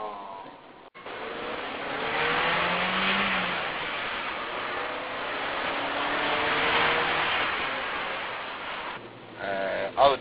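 A 1988 Audi 80 Quattro driving on a narrow mountain road, its mid-pitched engine accelerating and holding a steady drone with tyre and road noise, fairly close and moderately loud, with brief talk at the end.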